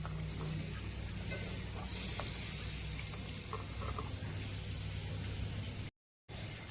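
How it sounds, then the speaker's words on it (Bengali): Water runs steadily over freshly cut aloe vera leaves being rinsed, a continuous close hiss with faint pattering, broken briefly by a short silence near the end. "এই লিকুইডটা ভালো করে আমরা জল দিয়ে ধুয়ে নিচ্ছি"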